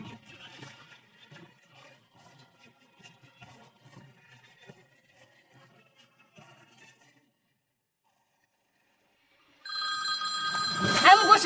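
Quiet speech gives way to silence, then a telephone bell rings loudly and insistently for the final two seconds, announcing an incoming call.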